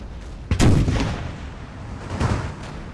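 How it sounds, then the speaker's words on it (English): Howitzers fire at a city wall in Napoleon Total War: two heavy booming shots, the first sharp and loud, the second a more distant thud about two seconds later, each trailing into a low rumble. "let's get the howitzers to shoot at the wall specifically"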